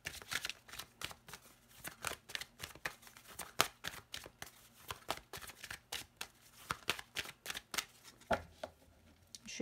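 An oracle card deck, the Oracle des Ombres, is shuffled by hand in a long run of crisp, rapid riffles and flicks close to the listener, steady and rhythmic, with no talking over it.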